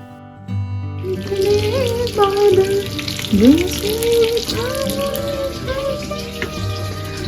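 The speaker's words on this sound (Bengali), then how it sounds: "তো চলুন মাছগুলোকে আগে এইভাবে ভেজে নিই" Pangasius fish fillets pan-fry in oil, a continuous hissing sizzle sitting beneath loud melodic background music, with occasional light kitchen knocks.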